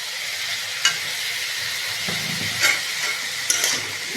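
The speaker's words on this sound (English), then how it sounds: "Keep on stirring" Potato samosa filling is stirred as it fries in a pan, with a continuous soft hiss and occasional scraping clicks from the utensil, close and steady.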